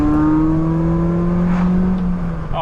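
A Ford Puma's engine pulls hard in second gear, a loud, close, sustained drone from inside the car that shifts in pitch as it accelerates.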